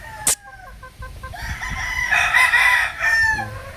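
Gamefowl chickens, including a Boston Millionaire derby-size bird, cluck in a series of short calls near at hand, followed by a loud rooster crow; a sharp knock sounds at the start.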